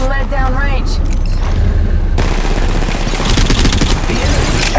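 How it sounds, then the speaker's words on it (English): Rapid automatic gunfire in Apex Legends Mobile, loud and continuous bursts over game sounds, preceded by a short stretch of in-game voice. "Opening fire on the enemy."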